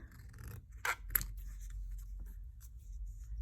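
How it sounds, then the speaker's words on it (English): Scissors snip through a square of cardstock for a mixed-media art card, giving two or three quick, crisp cuts in a quiet room with no talking. "I want to cut a square roughly."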